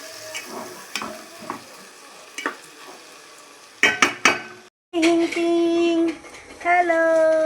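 Marinated rice goes into a pan of ghee with fried cashews and raisins: scattered utensil clinks and scrapes, a brief burst of clatter, a short pause, then a loud, sustained close sizzle.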